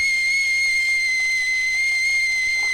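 A kettle on the stove whistles with a steady, piercing high tone that holds unbroken, alone and fairly loud.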